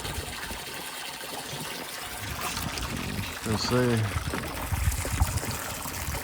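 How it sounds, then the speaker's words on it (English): Water pours and trickles continuously into horse water troughs on a foggy morning, with a person speaking briefly over the running flow. "Giving them water, filling up their waters."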